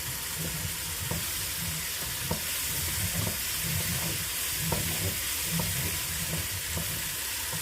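Chopped tomato for a beef madras frying in a pan, a steady close sizzle with light stirring scrapes ticking through it.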